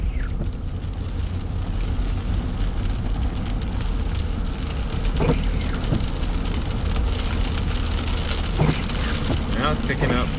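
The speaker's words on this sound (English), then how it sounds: "Rain's backing off a little bit." Steady rain pours during a severe September thunderstorm in Ankeny, heard from inside a vehicle with constant dense hiss, a few louder splashes or passing sounds, and voices talking faintly underneath.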